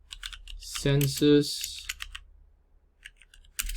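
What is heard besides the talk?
typing on a computer keyboard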